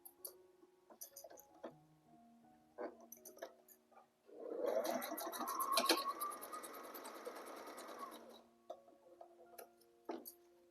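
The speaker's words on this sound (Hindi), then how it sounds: "यहाँ 2-3 बार सिलाई लगाएंगे मजबूत होने के लिए" A sewing machine runs several passes of stitching on fabric for a designer latkan. Faint clicks and small handling taps come first, then a soft, quick, steady whir of stitching lasts about four seconds before scattered ticks return.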